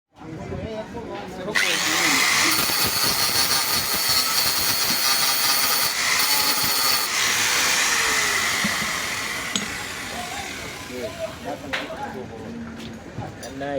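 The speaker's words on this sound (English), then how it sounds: "Then we grind." An angle grinder bites into welded cast iron, a loud sustained grinding whine for several seconds, with voices chatting before and after.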